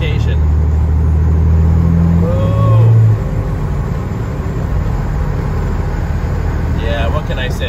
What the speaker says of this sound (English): Let me roll the window up so you don't hear all that wind sound.